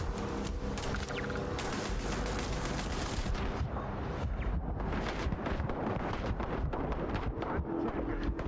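Gunfire with incendiary rounds in the video game Starfield: dense, rapid bursts of shots over a rumbling, windy background, loud and continuous throughout.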